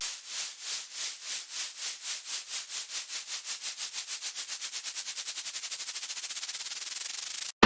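Bright hissing noise from an LMMS synth throbs under an LFO, the whooshing pulses starting slow and steadily quickening into a fast, even flutter before cutting off.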